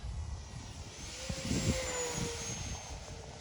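An E-Flite Turbo Timber Evolution 1.5 m RC airplane drones overhead on its electric motor, a steady whine that swells as it passes at full throttle, heard from the ground at moderate distance.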